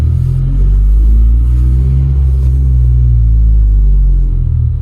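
Idling 9th-generation Honda Civic Si fitted with a catless downpipe, a loud steady low exhaust rumble with a metallic rattle running through it and slight swells in level, no talking.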